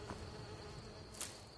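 Bees from the game Skyrim give off a steady, faint insect buzz that drones on without a break, swelling briefly near the end.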